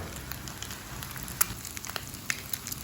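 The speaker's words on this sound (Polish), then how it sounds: "ciasto po prostu przypiekam. Już widzę tutaj się coś tworzy, trochę tłuszczu" Soft, steady sizzling of dough frying in fat in a pan, with faint crackles and a few sharper pops scattered throughout.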